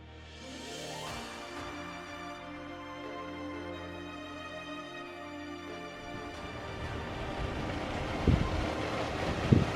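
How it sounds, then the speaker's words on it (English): A steady broadband rush of falling water from a distance, continuous and fairly soft, with gusty noise and a few knocks swelling near the end. "You can hear there's a waterfall down there."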